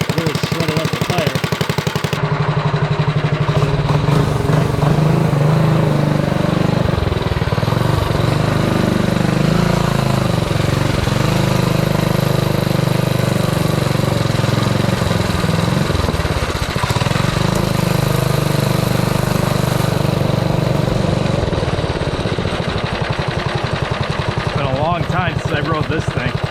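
A Predator 212 engine fitted to a Ghost-swapped minibike runs loud and close for the whole stretch, a steady, buzzing idle with small surges in pitch and a brief rev near the end.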